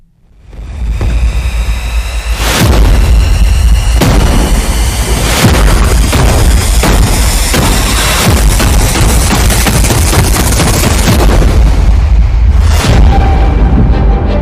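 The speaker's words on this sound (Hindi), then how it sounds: "इजराइल की राजधानी तेल अवीव में फटा बम" A bomb blast in Tel Aviv, Israel: loud, sustained rumbling booms with repeated heavy bursts, a dense roar filling the whole stretch, with no voices.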